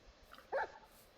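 A puppy in the Minecraft video game gives one short, faint yip or bark, a brief burst in quiet game audio.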